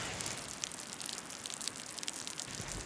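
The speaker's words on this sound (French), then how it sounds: "il se met à pleuvoir" Light rain begins falling outdoors at a campsite, a soft continuous hiss with scattered tiny pattering drops, faint and steady, no voices.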